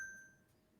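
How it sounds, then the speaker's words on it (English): A single soft phone notification ping, a brief bright tone that rings and fades quickly, faint and alone. "I heard the ping. yeah, that was my phone."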